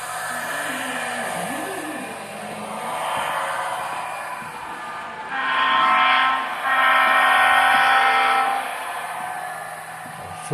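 A small electric model train locomotive, a Union Pacific Centennial #6900, hums and whirs steadily, its motor whine swelling louder for a few seconds midway before easing back down.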